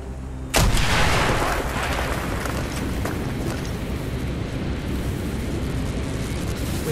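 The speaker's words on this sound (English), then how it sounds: "blow a hole in that fucking wall" A demolition charge blows through a wall in Call of Duty: Black Ops, a sudden loud close blast followed by a long rumbling roar of debris and sustained noise.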